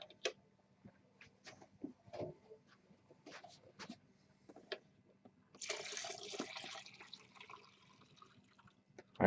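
Engine flush liquid poured from a container into a bottle for flushing an M2 tattoo machine, a steady splashing trickle lasting a few seconds after scattered small clicks and handling noises, fairly close and quiet.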